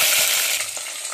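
Onions, green chillies and curry leaves fry loudly in hot oil in a pan, with a dense, steady sizzle and crackle that eases slightly toward the end, and no voices.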